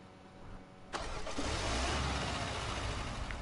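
In a video game, a car engine cranks and catches after a quiet moment. It settles into a loud, steady running roar that fills the rest of the short clip.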